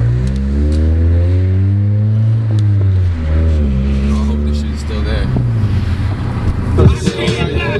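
A car pulls away and drives off, its engine note rising and shifting through revs, loud and close at first, then giving way to road and wind noise.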